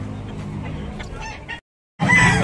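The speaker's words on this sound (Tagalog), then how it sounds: "Golden Boy Sweater ang bloodline na ningdala ni Busing" A Golden Boy Sweater bloodline gamecock gives loud, close clucking calls, broken by a brief silent gap before another burst of clucking resumes.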